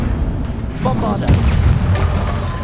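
Bombarda explosion spell cast in the video game Hogwarts Legacy, a deep booming blast that bursts out midway and rumbles on, mixed with other game effects and a brief voice.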